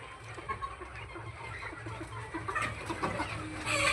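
Kadaknath hens and roosters cluck in a backyard coop, a cluster of soft, fairly close clucks repeating over steady background noise.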